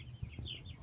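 Native black chickens in a backyard coop cluck softly in a low, scattered chorus at moderate distance, with a few short higher calls rising above the ongoing murmur.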